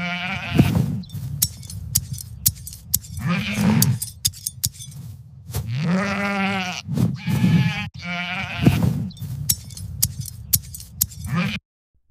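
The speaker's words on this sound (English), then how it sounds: "Old MacDonald is grooming a sheep in his farm." AI-generated farm scene of a farmer grooming a sheep, with repeated sheep bleats coming in bursts, light clinking and a voice speaking between the calls.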